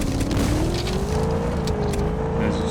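A car in the zombie survival video game Zed Zone drives steadily, its engine holding a continuous, fairly loud drone with a slowly rising pitch, mixed with faint rattles and bumps.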